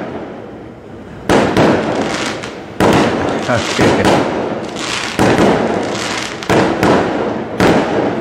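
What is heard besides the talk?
fireworks exploding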